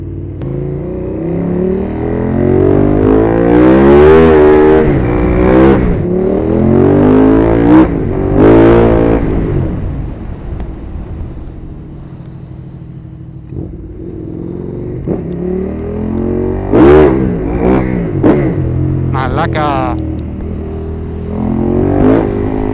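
A motorcycle engine revs hard through repeated throttle blips with no load, loud and close. The bursts rise and fall in rapid sweeps, with a quieter idle stretch between them.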